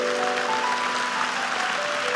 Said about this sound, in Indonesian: mau kasih tepuk tangan untuk Tuhan, silakan.